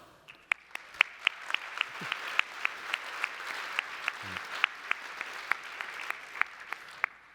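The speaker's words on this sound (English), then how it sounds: "Let's hear a round of applause for our esteemed judging panel." At a technology industry awards event, the audience applauds the judging panel: a soft, fairly distant patter of clapping with sharp individual claps standing out, steady throughout and without talk.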